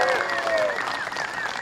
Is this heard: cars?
no